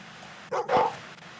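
A dog in the video game Fable 2 lets out two quick barks, the second louder and fuller, over a faint steady background hum.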